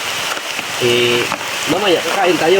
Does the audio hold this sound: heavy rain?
yes